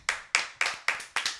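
A few hands clap in a steady, evenly spaced rhythm, about six sharp claps close by and fairly quiet, with no voices over them.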